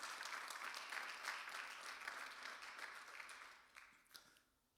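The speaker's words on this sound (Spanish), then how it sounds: "Démosle un aplauso al Señor." A church congregation applauding during a Spanish-language worship service, a moderate continuous patter of clapping that thins out and fades to quiet over the last second.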